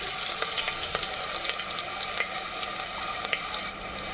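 Ginger garlic paste frying in hot oil for a mint chicken gravy with cashews, a steady close sizzle with faint crackles and pops throughout, no voices.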